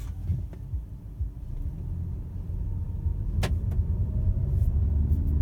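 A Peugeot 3008 SUV engine rumbles low and steady, the drone growing slightly louder as it pulls away from a standstill in drive, with a couple of brief clicks partway through.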